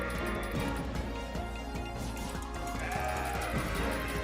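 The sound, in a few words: goat bleating in CrossCode video game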